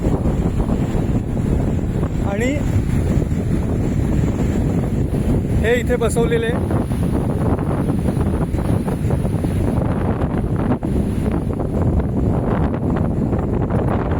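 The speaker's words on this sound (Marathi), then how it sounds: "वाऱ्याचा आवाज तुम्हाला येत असेल भरपूर" Strong wind blasts steadily against the microphone in a constant low roar at Bhatye beach, with a person speaking briefly beneath it and faint surf in the background.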